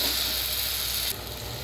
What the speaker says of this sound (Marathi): पुलाव मसाला टाकला की चांगलं परतून घ्यायचं छानपैकी.